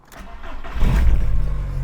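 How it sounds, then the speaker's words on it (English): A 2000 VW Golf Cabriolet's fuel-injected engine cranks briefly, then catches and settles into a loud, close idle with a pulsing exhaust note from a blowing exhaust. "I'll start it up and you can have a listen to it"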